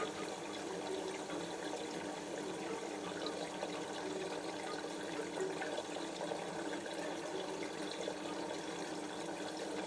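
Water sloshes and rushes steadily inside a Bosch Silence WFS4300 washing machine during a rinse, a continuous, fairly faint churning wash with no voices.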